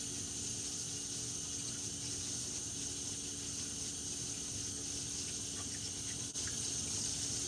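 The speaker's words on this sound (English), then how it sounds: "Rinse them off really well because you don't want your next thing that you make to taste like soap." Kitchen utensils are rinsed under a running tap, a steady, even hiss of flowing water that continues unbroken at moderate volume, with a small clink near the end.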